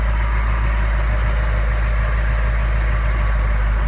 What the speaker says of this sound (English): Just a rad truck, and you can hear it runs fine.